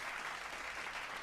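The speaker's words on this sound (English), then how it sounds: "give a round of applause" A studio audience applauds steadily, a dense, even wash of clapping that holds for a moment without breaks.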